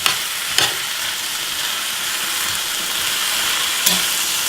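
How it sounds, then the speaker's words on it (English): Food sizzles and fries steadily in a hot pan, a continuous bright hiss with occasional scraping stirs and soft clinks, close and fairly loud with no talking, while a parsley-topped power bowl mixture gets turned around. "Stir that around real good"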